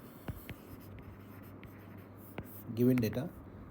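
Handwriting as given data for an irrigation canal design problem is written out by hand, a few faint scratchy pen strokes near a microphone, followed by a brief burst of talking.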